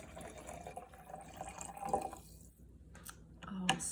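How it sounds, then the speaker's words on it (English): Green tea poured into an acai drink, a short trickling splash of liquid into a glass with faint dripping, quiet and close, followed by a brief clink near the end. "Up next, you add your green tea."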